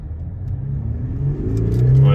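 An Audi SQ5 with a V6 TDI diesel launches hard in sport mode with paddle shifting, its engine rumbling and rising steadily in pitch as the car accelerates, loud and close from start to finish.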